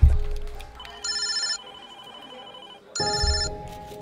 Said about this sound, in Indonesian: teleponku berdering.